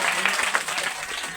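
Short burst of audience applause at a church prayer service, dense clapping from a crowd that stays steady and fairly loud throughout.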